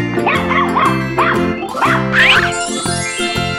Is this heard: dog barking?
yes